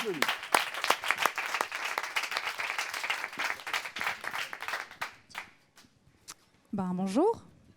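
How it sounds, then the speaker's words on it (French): Dense audience applause at a startup demo day fills the first five seconds, then thins to scattered claps as a voice speaks near the end. "on s'applaudit"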